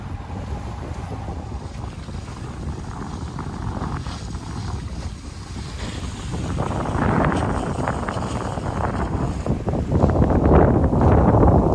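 Steady wind rushing past a sailboat under way in about 10 knots on calm seas, with broadband buffeting and hiss that grows louder in the second half, mixed with water wash against the hull.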